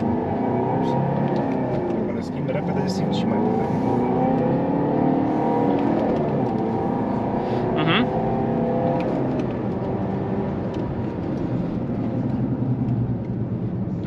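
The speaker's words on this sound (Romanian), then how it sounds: "Îmi place cum se aude motorul." A car engine runs under load on a test drive, holding a steady drone with a mild rise in revs, heard from inside the cabin while people talk over it.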